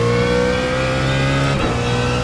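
A race car engine in the iRacing sim at Sebring roars steadily at high revs, loud and sustained with a smooth, buzzing harmonic tone, and no talk over it.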